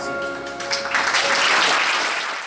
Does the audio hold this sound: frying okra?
no